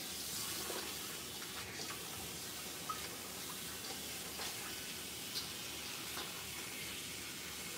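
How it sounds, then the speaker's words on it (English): Tap water runs steadily over frozen prawns being thawed in a sink, a continuous quiet hiss and splash with faint drips and small clicks, heard alone at low level. "let's run some water on these and get this all thawed out"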